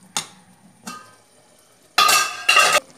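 Vegetables being stirred into sambar in a cooking pot, heard as four short scraping, clattering bursts, two brief ones followed by two longer, louder ones close by.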